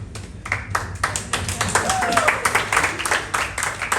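Audience clapping at a live comedy show, a steady patter of many hands lasting a few seconds, with room ambience and some voices mixed in underneath.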